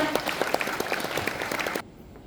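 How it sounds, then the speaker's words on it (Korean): Audience applause at a formal ceremony marking an overseas Koreans agency anniversary: a dense burst of clapping for about two seconds that cuts off abruptly into near silence. "박수 부탁드립니다"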